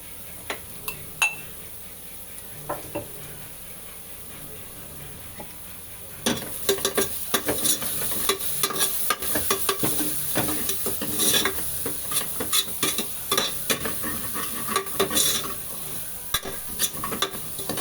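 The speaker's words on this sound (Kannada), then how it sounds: "ಚೆನ್ನಾಗಿ ಮಿಕ್ಸ್ ಮಾಡ್ಕೋಬೇಕು" A spoon stirs turmeric powder into food frying in a pan. Faint sizzling is followed by busy scraping and clinking strokes that start suddenly and continue steadily, close and fairly loud.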